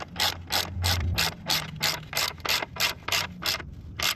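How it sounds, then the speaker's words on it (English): A ratchet tightens the chain adjuster lock bolt on a Triumph Daytona 675R motorcycle, its pawl clicking in about a dozen quick, evenly spaced bursts, close and clear. "And then lastly, you want to lock, tighten this bolt."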